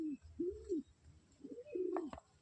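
Pigeons in a crowded loft give several soft, rolling coos in slow succession, close by and clear against a quiet background.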